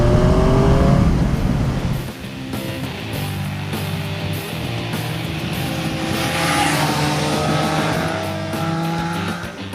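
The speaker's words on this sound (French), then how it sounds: "on entend un petit peu moins le sifflement caractéristique du 3 cylindres Triumph. À l'accélération, il a gagné un petit peu en profondeur" A Triumph Street Triple 765S motorcycle with a three-cylinder engine revs hard and accelerates past, loud and close, its deep growl holding through repeated gear-like pitch rises with a faint whistling edge.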